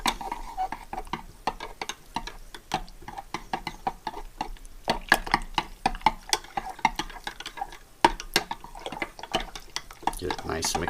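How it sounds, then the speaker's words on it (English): Yeast mixture being stirred in a container, rapid irregular clinks and taps of a utensil against the sides, close and fairly clear, with faint liquid sloshing and some quiet talk. "Put it in a container and stir that up."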